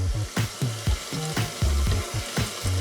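A whisk beats flour, baking soda and baking powder together in a bowl, giving close, rhythmic thumping strokes with scraping swishes about three times a second.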